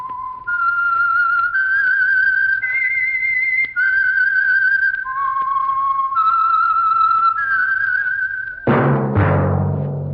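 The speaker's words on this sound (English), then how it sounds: "That whistle is your signal for the Signal Oil Program, The Whistler." Whistled theme of the old-time radio show The Whistler, a lone melodic whistle of sustained notes stepping up and down in a slow eerie tune, followed by a sudden low orchestral chord at the end.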